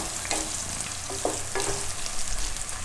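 Potato and carrot pieces fry in oil for a vegetable sabudana khichdi while a spoon stirs them, giving a steady low sizzle broken by a few brief scraping stirs near the microphone.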